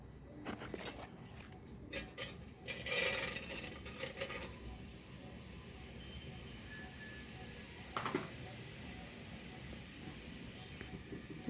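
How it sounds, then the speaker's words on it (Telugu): Cumin seeds hit hot oil in a pot on a gas stove, producing a hissing sizzle with bursts of crackle early on and a later flare, then settling into a quieter steady hiss; close and fairly faint. "అందులో ఆయిల్ కూడా పోస్తున్నాను. ఇప్పుడు ఇందులో జీలకర్ర వేసుకుందాం."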